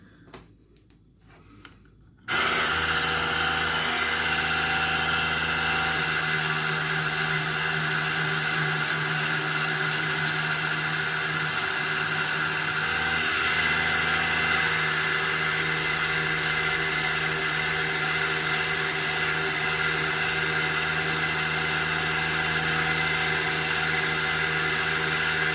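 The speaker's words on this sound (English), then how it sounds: "let's just sand down that other edge" A sander runs continuously on the edge of a bentwood ring inlaid with wire and guitar string, a steady loud whine that starts abruptly after a brief quiet moment and holds with slight shifts in pitch.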